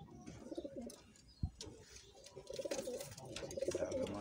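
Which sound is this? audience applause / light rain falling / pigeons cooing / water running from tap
pigeons cooing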